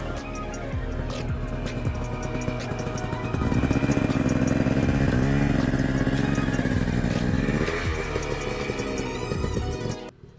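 Dirt bike engine revs hard while climbing a hill during enduro riding practice, a loud buzzing motor that rises and holds higher RPMs midway before cutting off abruptly at the end.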